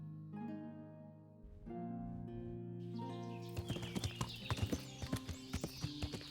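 Horse hooves clip-clopping in the medieval video game Kingdom Come: Deliverance, a close steady gait rising in loudness with a whinny heard early, over soft game ambience.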